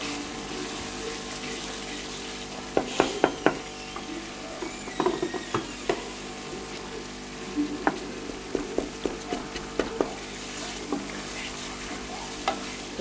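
Tomatoes frying in a pan with salt, chili, turmeric and cumin: a steady sizzle with repeated scraping and clinking of a spoon stirring against the pan, close and continuous.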